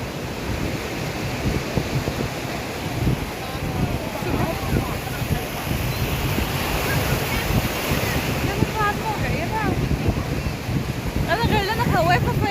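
Sea waves and surf break at a beach in a steady roar, with wind buffeting the microphone and faint voices underneath.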